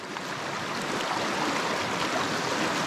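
A swollen stream in a rural forest rushes in a steady, dense roar of flowing water, close and unbroken, with no voices over it.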